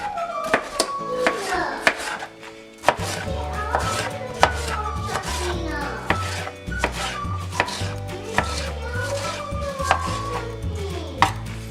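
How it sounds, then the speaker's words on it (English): Knife chopping tomatoes on a cutting board while preparing a sauce for huevos rancheros: quick, steady, close-up blade strikes in a continuous rhythm, with no talking. "we're going to start by chopping up all our tomatoes."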